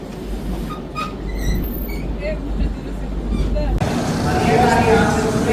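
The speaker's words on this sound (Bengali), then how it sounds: "আমাদের ট্রেন চলেছে তার নিজস্ব গতিবেগে, নিজস্ব পথে, নিজস্ব ছন্দে।" Rumbling interior noise of a moving passenger train on a journey through eastern India, a steady low drone with rattling, and the cabin sound shifting partway through as the carriage noise becomes brighter and louder.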